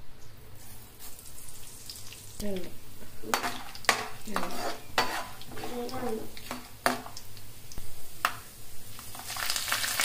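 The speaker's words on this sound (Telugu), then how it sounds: "ముందుగా పచ్చిశనగపప్పు, పల్లీలు వేసుకుందాం. అలాగే మినపప్పు, ఆవాలు వేయించుకుందాం." Chana dal, peanuts, urad dal and mustard seeds frying in hot oil in a pan, a close sizzle with scattered pops and stirring clatter under a talking voice.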